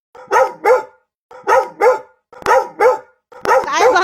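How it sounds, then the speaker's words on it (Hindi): A dog barks in a residential neighbourhood, loud and close, in repeated pairs of sharp barks separated by short pauses, ending in a longer growling bark. "काहे भौंक रहा है तुम लोग?"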